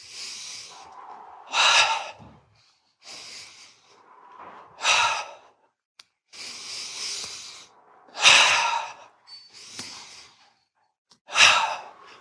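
Deep, audible breaths from a guided breathing exercise, slow inhales and exhales repeating about every three seconds, close and fairly loud in an otherwise quiet space.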